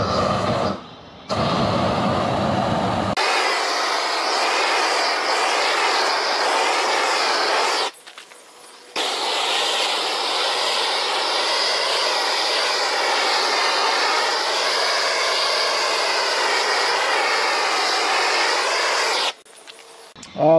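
Propane weed-burning torch with igniter roaring in a steady, loud broadband rush, cut off by brief gaps near the start and near the end.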